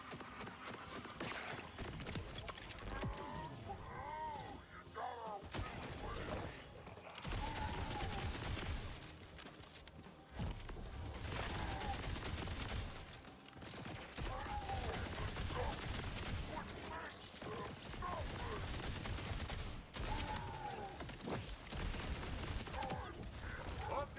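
Rapid turret gunfire in the video game Borderlands 4 comes in dense, loud bursts mixed with mechanical clanks and game effects, nearly continuous, with only brief gaps.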